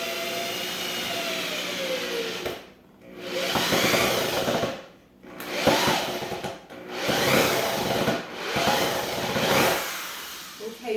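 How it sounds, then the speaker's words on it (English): A power driver sets screws into a wooden kitchen island frame built with EcoBricks, in several close, whining bursts separated by short pauses. "So I'm just going to screw these in real quick."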